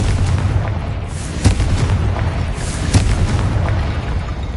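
A Confringo blasting spell from Hogwarts Legacy explodes against a barricade, giving loud booming blasts at about 1.5 and 3 seconds over a steady rumbling game soundscape.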